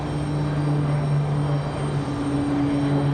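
A United Airlines Boeing 737 MAX jet arriving at Raleigh-Durham airport makes a loud, steady engine roar with a sustained low hum, constant throughout, with no voices.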